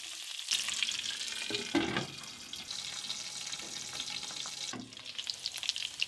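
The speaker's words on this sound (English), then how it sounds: "Add your fried pork pieces, stir, cover and cook it on a low flame for 10 minutes" Fried pork pieces and onions cooking in rendered pork fat for an Ahom-style spicy pork fry, a low continuous sizzle with soft stirring scrapes and a faint watery bubbling underneath.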